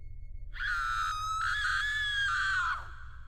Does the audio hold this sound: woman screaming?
yes